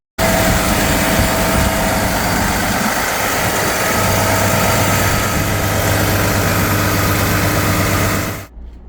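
A pre-DEF Detroit Diesel Series 60 engine idles at the rear of a 2007 Prevost XL2 bus, a loud steady low rumble with a constant drone, heard close and alone until it cuts off at the end.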